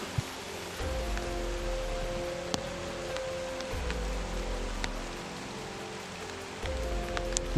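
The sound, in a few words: heavy rain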